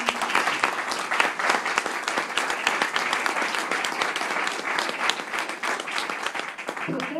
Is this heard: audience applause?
yes